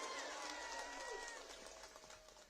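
A large crowd applauds at an outdoor political rally in Imphal, Manipur, producing a dense, steady wash of clapping and crowd noise that fades slightly toward the end, with faint background voices.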